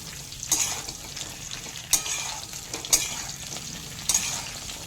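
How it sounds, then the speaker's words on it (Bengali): Cauliflower florets frying in oil with a steady sizzle, broken by a few sharp stirring scrapes at regular intervals, close and fairly quiet. "5 মিনিট সময় ধরে ফুলকপিগুলো ভেজে নিচ্ছি"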